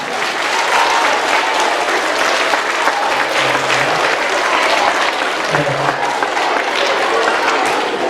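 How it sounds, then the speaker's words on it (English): Steady, dense applause from a middle school assembly audience fills the hall, loud and continuous throughout with a busy crowd texture and faint voices mixed in. "All right, give a round of applause."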